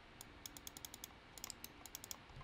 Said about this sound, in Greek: Κλικς.